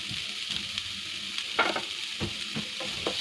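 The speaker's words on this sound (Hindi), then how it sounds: "ग्रीन चिली को भी आपको थोड़ा सा सोते करना है" Green chilies sautéed over a low flame in a pan with onions give a quiet, steady sizzle and hiss, broken by a few soft stirring scrapes and taps, fairly faint and with no talking.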